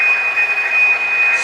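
A model train's sound-effect wheel squeal rings as a steady, piercing high-pitched tone over a constant rushing hiss, loud and continuous for the whole moment.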